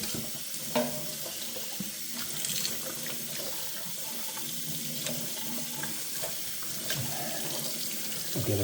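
Water runs from a tap through a Fretta masticating cold press juicer to rinse it, a steady close sink stream with small splashes and clatters and no talking.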